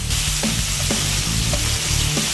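Steak from American beef sizzles and fries in butter in a pan, a dense continuous crackle with occasional pops and spits, close and loud without talk.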